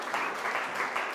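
A church congregation applauds in a steady, dense burst of clapping that fills the short moment, loud and close, with no clear voice over it.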